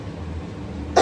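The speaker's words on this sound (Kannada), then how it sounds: "ಕೆಮ್ಮು" A single sharp cough bursts out at the very end, loud and close, after a stretch of quiet kitchen room tone while biryani cooks.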